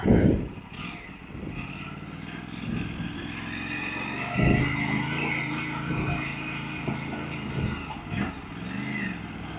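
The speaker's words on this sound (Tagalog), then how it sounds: "Tunog tricycle da." A tricycle motorcycle engine runs steadily throughout, a continuous buzzing drone with small rises and dips, close and fairly loud, with no talk over it.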